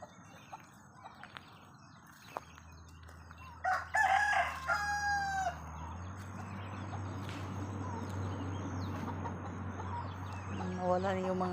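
A rooster crows loudly in a backyard chicken coop where turkeys are also kept, one long crow rising above a steady hum, with clucking and a second short crow starting near the end.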